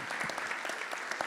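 An audience at an anniversary forum event applauds, a brief burst of even clapping from a room full of people, alone without speech.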